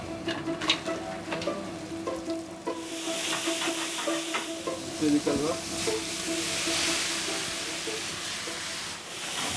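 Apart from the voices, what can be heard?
vegetables sizzling in hot oil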